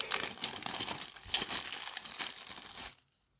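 Thick packaging paper from a water leak sensor box crinkles and rustles close by in continuous crackling handling for about three seconds, then stops abruptly into near silence.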